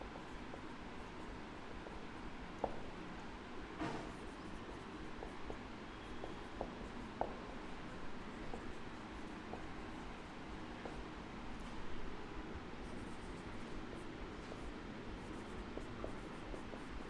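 Faint, steady scratching of writing on a board as a leave application is spelled out in a Class 10 English lesson, with soft repeated strokes and occasional light taps over a constant room hiss.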